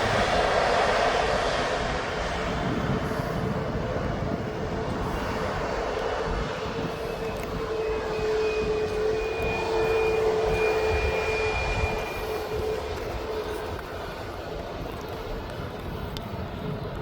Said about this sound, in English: So this Ryanair is in a bit of a rush to get onto the runway.